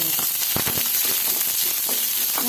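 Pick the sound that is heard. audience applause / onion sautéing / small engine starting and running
onion sautéing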